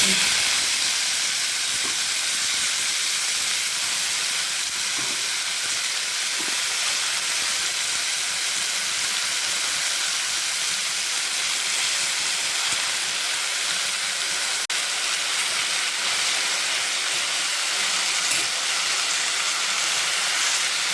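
Chopped amaranth greens hiss and steam in a hot pan over a cumin and chilli tempering, a loud, continuous, even sizzle that lasts throughout without a break.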